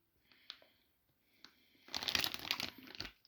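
Instant curry noodle packaging is handled, first with a few faint isolated rustles and then a burst of loud, close crinkling and crumpling of plastic film lasting over a second.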